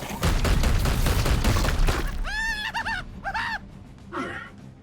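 A psy cannon in the video game Warhammer 40K Chaosgate: Daemonhunters fires a rapid, loud volley of bursts lasting about two seconds, followed by brief voiced callouts and quieter effects.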